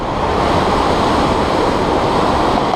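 Swollen river rapids run at high water after heavy rain, giving a loud, steady, broadband roar of rushing current that fills the whole moment with no pause.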